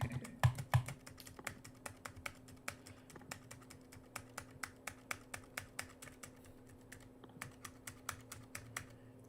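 Typing on a Magic Keyboard, a quick, fairly regular run of crisp key clicks close by, busier at first and then steady, with no talk.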